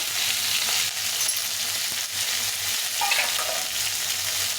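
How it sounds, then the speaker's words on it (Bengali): Vegetables frying in a pan with salt and turmeric, a loud continuous sizzle with occasional scrapes of stirring, no voices over it. "এর মধ্যে একটু লবণ আর হলুদ দিয়ে সবজিটাকে ভেজে নেব"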